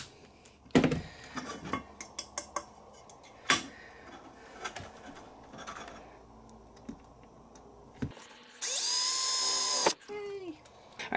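A power drill boring a hole for an RV screen door cross bar, heard as a short, loud whirring burst of about a second near the end, after scattered clicks and handling knocks.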